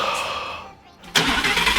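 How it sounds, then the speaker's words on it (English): A 2020 Audi R8's naturally aspirated V10 engine cranks and fires up abruptly, bursting into a loud, deep roar after a brief quiet moment. "how about you start up the engine"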